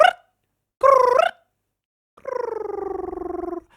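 A human voice imitates mournful pigeon noises in three separate drawn-out, wavering coos, each sliding downward, with short silences between them.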